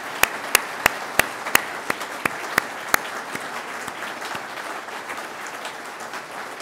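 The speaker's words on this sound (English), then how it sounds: "Round of applause" An audience at a 2017 awards celebration applauds, sharp individual claps standing out early before settling into a softer, steady ovation that fades slightly toward the end.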